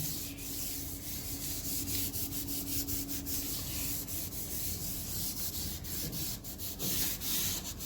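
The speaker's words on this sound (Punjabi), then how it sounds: "ਹੁਣ ਮੈਂ ਸਾਰੀਆਂ ਜਿਹੜੀਆਂ ਟਾਈਲਸ ਆਪਣੀਆਂ ਜਿੰਨੀਆਂ ਵੀ ਇੱਥੋਂ ਤੋਂ ਗੰਦੀਆਂ ਨੇ ਸਾਰੀਆਂ ਅਸੀਂ ਸਾਫ਼ ਕਰ ਲੈਣੀਆਂ" Continuous close scrubbing of dirty household floor tiles, a dense rhythmic rasping rub that keeps a quick back-and-forth pace throughout without pause or talk.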